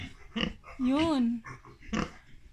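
A pregnant mother pig in a piggery pen grunts a few times, with one longer drawn-out squealing grunt in the middle, close and fairly clear against quiet background.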